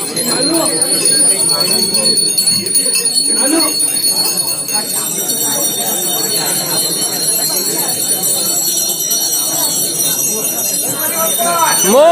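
A bell rings with a bright, sustained metallic tone over steady background noise, while people talk nearby during a Ganesh festival in a Konkan village.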